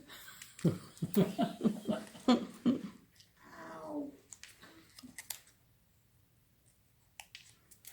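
Scissors snip paper to cut the feet off a paper penguin for a Christmas card, a run of close, crisp cuts in quick succession, followed by a soft rustle and a few scattered faint clicks.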